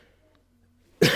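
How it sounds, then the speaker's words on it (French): One abrupt, loud cough from a man who keeps coughing, close to the mic and coming after near silence. "j'arrête pas de tousser"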